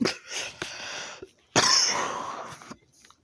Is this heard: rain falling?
no